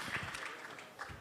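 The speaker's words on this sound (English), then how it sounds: "Once again, warm applause to these speakers." An audience at an APEC economic forum applauding the speakers, a moderate spread of clapping hands, a bit uneven and softening toward the end.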